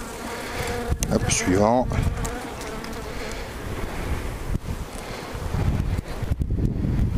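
Honeybees hum in a dense, steady buzz from an open hive during a colony split, close and continuous throughout, with a brief spoken interjection and faint handling noises over the swarm.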